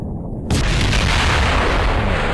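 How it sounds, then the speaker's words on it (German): A loud, sudden explosion in the spaceflight game Kerbal Space Program, erupting abruptly after a brief quiet moment into a heavy, booming roar that sustains and rumbles on. "Ich weiß nicht, was da gerade explodiert ist."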